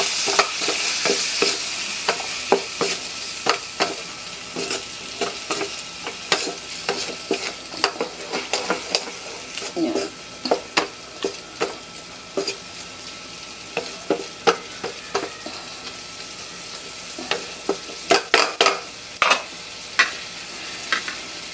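Chicken and bok choy stir-frying in a pan after broth is added, a close steady sizzle with repeated scraping and clinking of a spatula stirring throughout.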